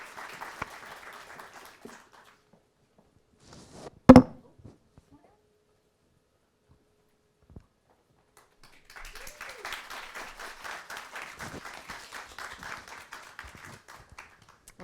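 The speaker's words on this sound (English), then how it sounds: "Let's all give her a round of applause." Audience applause at a NYC Jewelry Week 2023 talk on Indian jewelry, clapping for a moderator: a sustained round of clapping, then a sharp thump and near silence, then a second, longer stretch of steady applause.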